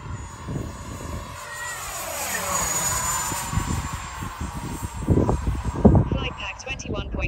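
A Freewing F-35 70mm electric ducted-fan RC jet with retractable gear flies past outdoors on a windy day, its high whine sweeping up and down as it passes, with wind buffeting and occasional voices underneath.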